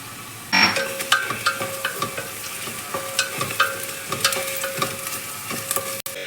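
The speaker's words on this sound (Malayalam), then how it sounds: "ഈ സമയത്ത് നമുക്ക് ഇഞ്ചി വെളുത്തുള്ളി പേസ്റ്റ് ചേർക്കാം ഒരു അര സ്പൂണ് ഇഞ്ചി പേസ്റ്റും അര സ്പൂണ് വെളുത്തുള്ളി പേസ്റ്റും" Ginger and garlic paste stir-frying in a pan for vegetable salna, a steady close sizzle with repeated scraping strokes of a spoon against the metal, no talking.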